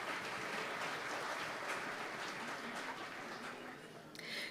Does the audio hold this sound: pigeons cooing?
no